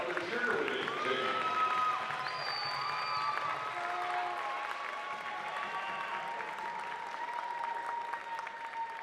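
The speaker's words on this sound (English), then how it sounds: "once again, round of applause for our seniors of the cheerleading team" A crowd applauds senior cheerleaders at a Georgia College versus Young Harris men's basketball Senior Day game, with sustained clapping filling the gym alongside tonal sounds and a voice.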